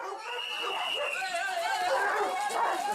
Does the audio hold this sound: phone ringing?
no